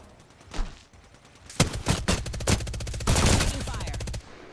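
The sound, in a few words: gunfire in the video game Apex Legends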